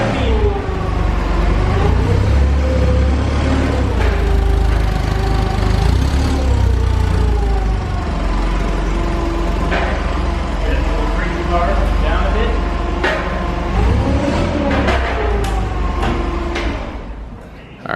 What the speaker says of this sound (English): we use the forklift with the skid underneath the car and lift this up to the engine